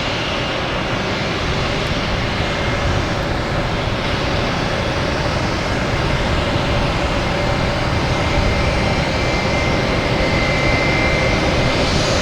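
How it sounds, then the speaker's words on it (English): An American Airlines Airbus A321 arriving from LAX at Boston Logan produces a loud, sustained jet engine roar with a faint whine, steady and unbroken throughout, with no talk over it. "we have American Airlines coming in from LAX, an A321, flight 12"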